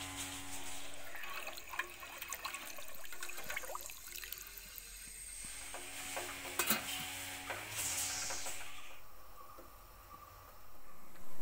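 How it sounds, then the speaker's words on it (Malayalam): Biryani rice water, seasoned with rose water and salt, bubbles at a rolling boil in a pot, giving a steady hiss and sizzle broken by scattered clinks and stirring clatter. "വെള്ളമൊക്കെ നല്ലോണം തിളച്ചു വന്നിട്ടുണ്ട്."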